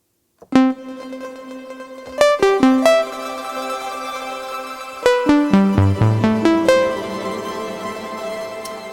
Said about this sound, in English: It can also kind of pitch up the reverb an octave higher and an octave lower